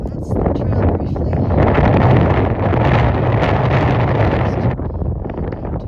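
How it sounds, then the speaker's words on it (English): Strong wind on an exposed mountain trail on Mount Moosilauke, loud continuous gusting buffeting that rumbles against the microphone throughout, with a voice faintly present underneath. "Still windy"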